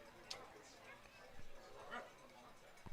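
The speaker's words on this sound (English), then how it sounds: "we've got barking going up all over the place here" Dogs barking at a minor league baseball game between the Lincoln Potters and Walnut Creek Crawdads, a few scattered short barks rising from the stands over steady crowd murmur in the ballpark.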